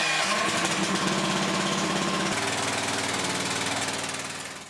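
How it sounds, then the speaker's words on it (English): A Chinese mini skid steer engine running outdoors in snow, with a loud, close, rough chugging idle and a rapid knocking rhythm that starts to fade near the end. "we're going to fire up the mini skid steer and see how it does to plow the driveway"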